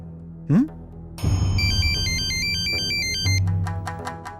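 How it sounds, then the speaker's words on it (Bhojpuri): A melodic electronic phone ringtone starts after a brief whoosh and plays on, repeating its tune at close range under some background noise. "अरे ये फोन भी बखत बेबखत बाजे लगेला"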